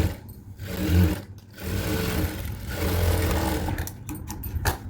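A sewing machine runs steadily as it stitches blouse fabric, a close, continuous mechanical whir with brief pauses and slight changes in speed.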